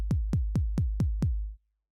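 Six evenly spaced hardstyle kick drums processed through distortion, Pultec EQ and reverb plugins, each a punchy click falling into a deep booming tail, played alone with a low rumble lingering after the last hit.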